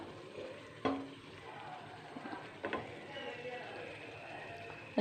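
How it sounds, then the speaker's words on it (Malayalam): Eggs, tomato and onion sautéing in a pan for egg curry, giving a quiet continuous sizzle with a few sharp clacks of a utensil, while a person talks softly nearby. "മുട്ടയൊക്കെ പൊളിച്ച് ഇത് തക്കാളി ഉള്ളിയും കൂടെ വാട്ടിയിലേക്ക് ഇട്ടിട്ടുണ്ട്"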